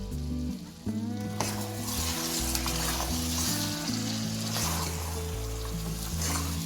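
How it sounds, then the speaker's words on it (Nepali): Cubed onions and marinated chicken fry with fenugreek seeds and kasuri methi in a pan over a medium-high flame, sizzling steadily up close while being stirred, under background music. "र यसलाई म 5 मिनट जति यसरी नै भुट्छु मिडियम हाई फ्लेममा"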